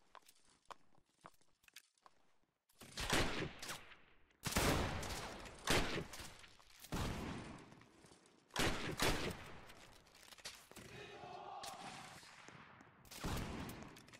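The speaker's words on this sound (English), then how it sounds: "Oh yeah, the rocket." Explosive rocket and artillery blasts in a Napoleonic-era video game battle, a series of loud, booming bursts with rumbling tails separated by short gaps, ending in another heavy blast.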